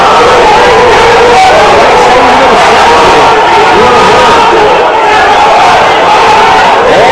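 A football crowd at a Formosa versus Taguatinga match roars after a foul, loud and sustained with shouting and chanting throughout.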